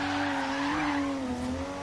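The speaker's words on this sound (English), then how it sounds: "Hit that E-brake, corrects that understeer, turns it to oversteer. Hit the gas, and it slides, man." A twin-turbo Subaru Brat in the racing game Forza Horizon 3 slides after an e-brake pull, a steady high tire squeal over a droning engine, loud and continuous for about two seconds.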